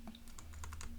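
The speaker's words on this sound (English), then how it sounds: "So I'm doing an Apple F or Command F, and I type in gradient" Quick keystrokes on an Apple computer keyboard typing a search word after a Command F shortcut, several close, crisp clicks in an irregular burst with no talking.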